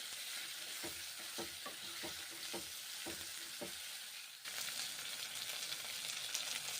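Pointed gourd frying in mustard oil gives a low, steady sizzle while a spatula scrapes and knocks against the pan in a run of rhythmic strokes, then the sizzle swells a little louder, all close and with no talking.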